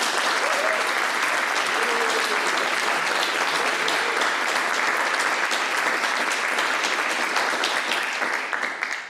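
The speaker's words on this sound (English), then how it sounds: "would you join me in a round of applause to express appreciation for the faculty who make this extra effort for you?" Students at a university global affairs policy brief awards event give the faculty a long round of applause, a dense, steady crowd clapping that stays loud for nearly nine seconds before tapering slightly, with a faint voice briefly showing through early on.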